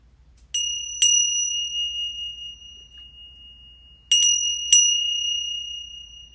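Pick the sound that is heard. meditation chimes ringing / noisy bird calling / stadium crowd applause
meditation chimes ringing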